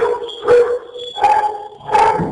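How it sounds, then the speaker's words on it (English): Dogs barking indoors nearby, three loud sharp barks spaced roughly evenly, with a whiny tone between them. "Excuse my dogs."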